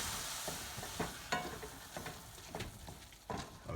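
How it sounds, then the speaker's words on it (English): A ladle of stock goes into creamy risotto in a pan and gets stirred, a soft sizzle under a run of quick scraping and sloshing strokes, fairly quiet overall. "Now we're gonna go ahead and add our first ladle full of stock in there."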